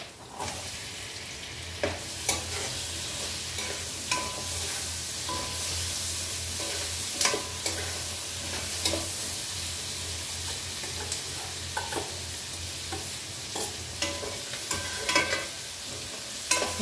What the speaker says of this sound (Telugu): ఇప్పుడు ఈ దోసకాయ ముక్కలు వేసేద్దాం.